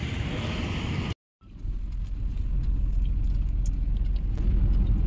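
Low rumbling road noise heard from inside a car stuck in slow-moving traffic, a steady engine drone that cuts out briefly and then resumes, with a few faint light clicks and taps over it.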